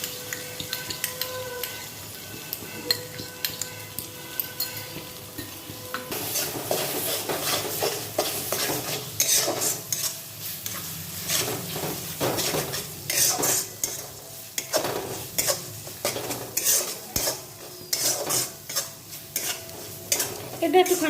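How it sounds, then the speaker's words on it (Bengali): Chicken chaap fries in a pan with fried onions while being stirred. Steady sizzling runs under repeated scraping and clinking from a utensil against the pan, growing busier partway through. "এটা একটু খানিকক্ষণ ভাজতে হবে এরকম করে, কারণ তেল ভাবটা আসবে।"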